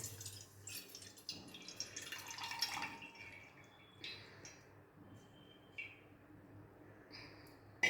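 Quiet trickling and dripping water as soaked poppy seeds are strained, with a brief pour followed by scattered drips close by.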